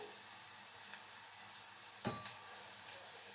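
Ground pepper and cumin powder going into a pan of fried onions for rasam, a faint steady sizzle with a brief sharper crackle partway through.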